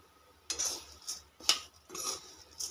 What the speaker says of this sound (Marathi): बघा किती मस्त भाजायला लागल्यात शेवया आपल्या.